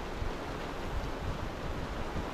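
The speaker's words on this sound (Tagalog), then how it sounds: "malakas ulan na to mga katrops." Heavy rain pours down outdoors near rice fields, a steady, dense, even roar of falling water without breaks.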